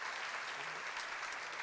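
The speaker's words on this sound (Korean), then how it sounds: "박수로 하세요." Audience applause at a church seminar on a Samuel sermon, a steady wash of clapping from a gathered crowd, fairly faint and continuous throughout.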